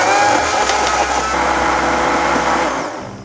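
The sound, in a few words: blender grinding onion, ginger, garlic and chili seeds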